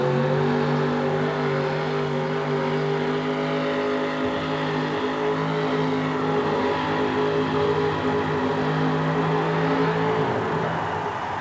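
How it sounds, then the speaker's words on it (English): A 1950 GMC truck roars steadily down a monster truck race track in Oakland, its engine droning loud and close with layered harmonic tones throughout and no voices over it. "That little 50 model GMC hooking up and really hauling to the other end of the track."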